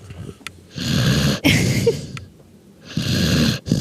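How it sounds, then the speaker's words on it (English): Slow, rhythmic snoring from a sleeping dog, two long rasping breaths with a quiet pause between them, close by. "I wonder if we can hear Coda snoring, because our dog is laying with us"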